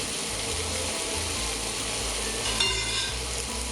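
Shallots fry in a pan with a constant bright sizzle while a utensil stirs them, scraping and knocking softly against the pan.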